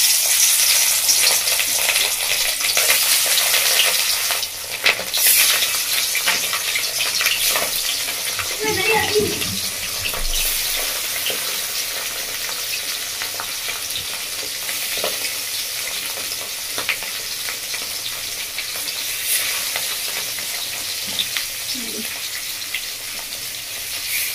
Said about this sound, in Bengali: মাছগুলো তেলের মধ্যে ছেড়ে দিচ্ছি